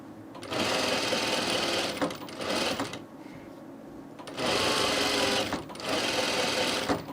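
A sewing machine running in close bursts, stitching a shirt placket edge with very short stitches, its motor whirring loudly with a brief pause between runs.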